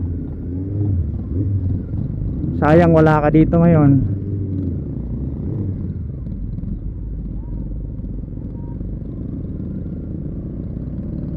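A borrowed motorcycle hums and rumbles steadily on a charity group ride, its engine drone continuing under the wind noise, with a short burst of speech near the start.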